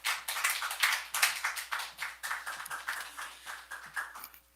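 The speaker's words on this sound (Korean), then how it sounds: "목사님 나오실 때 큰 박수로 환영해 주시기 바랍니다." A church congregation at a founding-anniversary Sunday service claps warmly to welcome the pastor, a dense, lively patter of many hands rising and falling for several seconds without speech.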